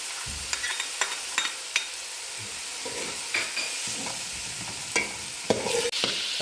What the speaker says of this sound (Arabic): هلا بقلي البصل مدة دقيقتين